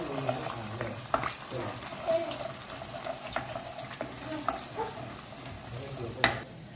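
Prawn noodles seasoned with salt and black pepper being stirred and cooked in a pan over low flame, a soft continuous sizzle with repeated scraping and tapping of a spatula, close and fairly quiet, no talk.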